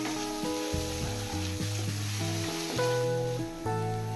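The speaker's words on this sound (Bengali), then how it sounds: "সব মশলা একসাথে মিশিয়ে 5-6 মিনিট কষিয়ে নেব" Spices with red chilli powder, Kashmiri chilli powder and turmeric sautéed in a pan for echor chingri, a steady hissing sizzle running under background music with sustained notes.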